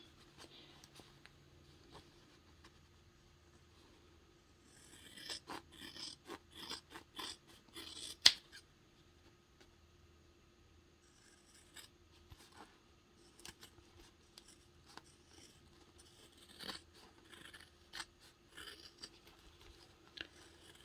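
Scissors snip through the fabric of a quilted clutch bag in quiet, scattered cuts. Clusters of crisp clicks and snips come close to the mic, separated by pauses, with a few louder snips standing out.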